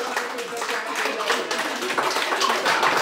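Steady, dense clapping from an audience at a Thoompunkal family get-together competition, a continuous patter of many hands with voices mixed in underneath.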